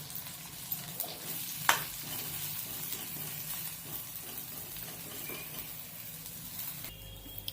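Ground fennel and cumin sautéing in a pan for matar kachori filling, a steady low sizzle and crackle throughout with one sharp clink of a utensil early on.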